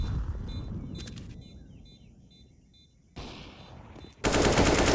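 Gunfire in Counter-Strike: Global Offensive during an ESEA intermediate match, with bursts of loud, close shots from a rifle and a sudden louder volley at the end, layered with game effects.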